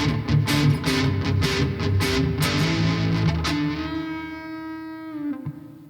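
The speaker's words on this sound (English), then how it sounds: "If we turn on an ultra metal distortion" A Chibson SG replica electric guitar through an ultra metal distortion effect chugs with dense, gritty strums, then lets a final chord ring out and fade.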